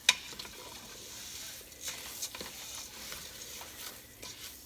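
Rice browning in a hot pan for Mexican-style rice, a soft steady sizzle with occasional scrapes and stirring clinks from a utensil, close and moderately quiet, no talking.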